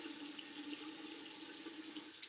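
Tap water running steadily into a sink while someone wets their face, a continuous soft splashing hiss with small irregular drips, close and quiet, no voices.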